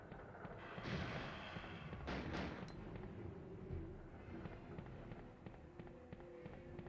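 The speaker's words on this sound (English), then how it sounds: "What is Ada shooting at?" Gunfire and blasts in the Resident Evil 2 video game on Nintendo 64, as Ada shoots in a Leon A randomizer run, with bursts around the first three seconds over a steady rumbling game background.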